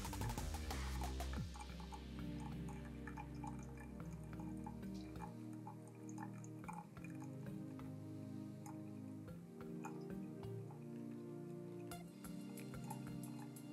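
Hot water poured in a controlled, medium-low stream into a V60 coffee dripper, about 200 cc, makes a steady close trickle with soft drips and small ticking clicks throughout. No one speaks.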